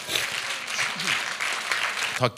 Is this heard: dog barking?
no